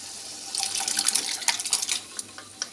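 Water runs from an outdoor tap onto a surface, close and fairly loud, a hissing, splashing stream with uneven bursts that fades toward the end.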